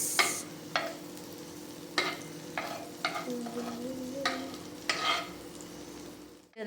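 Carrot and capsicum fry in heated butter with a steady soft sizzle, broken by several sharp scrapes and knocks of a spoon stirring in the pan, close and fairly quiet.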